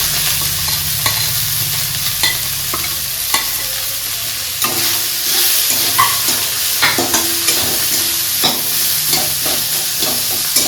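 Vegetable chop filling of mixed vegetables with ginger fries in a pan, a steady sizzle broken by repeated scraping and knocking of a spatula stirring the mixture, close and loud.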